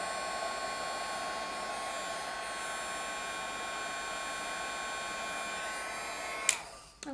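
Heat embossing tool running steadily to melt embossing powder on stamped images, a continuous loud blowing whir like a hair dryer that holds for several seconds and then cuts off near the end with a brief click.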